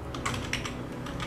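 Rapid keystrokes on a computer keyboard, a quick run of light clicks close by in a brief burst.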